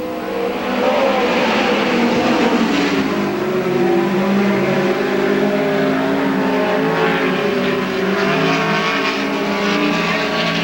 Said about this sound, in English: 4 cars dicing through the corner.